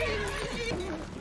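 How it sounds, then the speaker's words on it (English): A horse gives a single wavering neigh, fairly loud and up close, with a low rumbling background under it. "That's my Uncle Benjen's horse."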